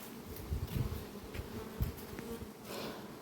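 Honey bees buzz faintly around a hive, a low steady hum with a few louder passes of single bees close by.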